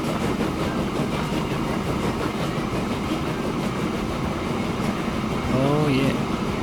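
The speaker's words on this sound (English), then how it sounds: "And that was a cool train." A train rolls along rails in the Transport Fever 2 simulation game, a continuous rumbling clickety-clack that holds steady throughout. A voice briefly speaks near the end.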